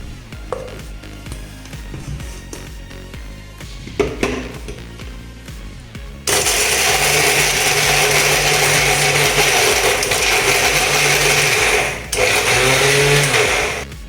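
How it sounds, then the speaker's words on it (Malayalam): A mixer grinder powders broken Oreo biscuits in its jar. After a few seconds of handling clatter, the motor roars loud and steady, cuts out briefly near the end, then whirs again. "ഇനി നമുക്കിത് നന്നായിട്ടൊന്ന് പൊടിച്ചെടുക്കാം."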